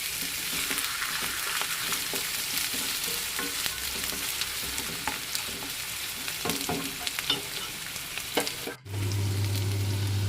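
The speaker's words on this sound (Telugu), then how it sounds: "ఇప్పుడు వన్ టేబుల్ స్పూన్ అల్లం వెల్లుల్లి పేస్ట్ కూడా వేసుకొని పచ్చివాసన పోయే వరకు వేయించుకోవాలి" Okra with ginger garlic paste frying in a pan, a close steady sizzle with occasional stirring scrapes and light clinks, followed near the end by a low, constant hum that takes over.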